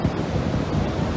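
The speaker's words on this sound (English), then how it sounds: "All the sand is going down, falling into the rushing river." River water rushing past a sandy beach on a rainy day, a steady, close broadband roar with no voices.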